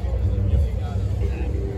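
Lamborghini Huracan supercar among exotic cars at a Tampa cars-and-coffee meet, heard as a steady low engine rumble with a crowd babbling in the background.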